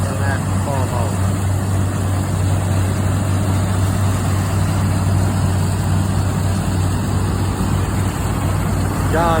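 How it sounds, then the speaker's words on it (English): A Farmall tractor with a mounted International corn picker drives past at an antique farm machinery show, its engine a steady, loud drone throughout while a voice talks over it. "Here's another one with an international corn picker mounted on a Farmall"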